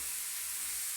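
Flat beans frying in oil in a pan while being stirred, a soft continuous hiss with a faint scrape of the utensil near the end, close and quiet, no talking.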